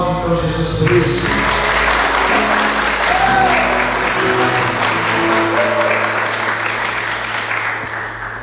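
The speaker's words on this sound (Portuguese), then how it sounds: "Aplaude então Jesus por isso." A church congregation applauds steadily through a sermon, a broad sustained wash of many hands clapping that fills the room and fades slightly toward the end, with low organ or keyboard tones underneath.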